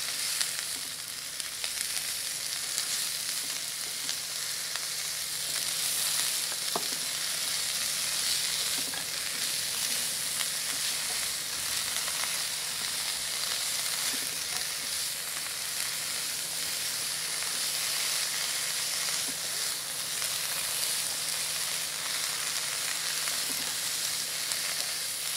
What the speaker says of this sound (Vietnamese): Mình xào cho khổ qua nó chín nha.